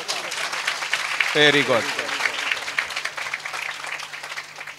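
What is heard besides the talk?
loud clapping by the church congregation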